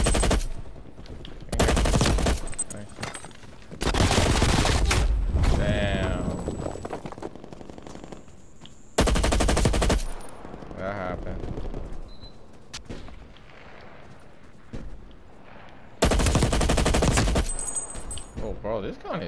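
A Stoner LMG machine gun fires in a shooter video game, loud in several long sustained bursts of rapid automatic fire, separated by quieter stretches with faint background game sounds.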